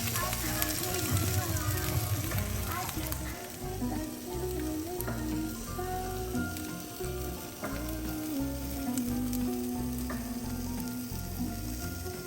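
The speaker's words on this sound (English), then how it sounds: "So here I'm just putting some butter in the griddle." Butter sizzles steadily on a griddle pan heating for French toast, a continuous frying hiss with tonal background music and some talk over it throughout.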